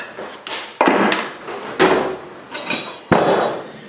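Hammer blows driving tapered pins out of a South Bend 10K lathe during restoration, about five ringing metallic strikes spaced roughly a second apart, close and loud, with no talking.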